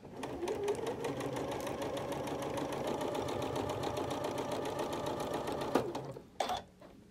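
A sewing machine stitches through a pinned quilt block in a steady, close, continuous run for about six seconds, then stops with a brief clunk and a short mechanical burst near the end.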